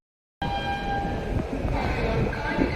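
Train at a railway station platform, a steady loud rumble with sustained horn-like tones starting abruptly and continuing throughout, close and busy with platform noise.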